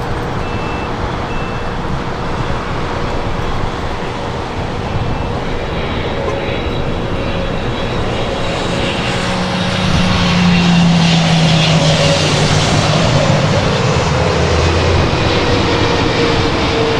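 Jet airliner engines roar at Los Angeles International Airport, a loud sustained whine and rumble that swells and strengthens midway as a plane powers up on the runway.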